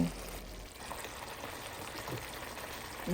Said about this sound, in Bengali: এবার ভেজে রাখা চিকেনগুলো দিয়ে দিব